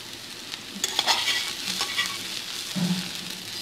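Spoon scraping and stirring stewed potatoes with carrots in a pan, soft sizzling under a few clinking strokes, close and moderately quiet.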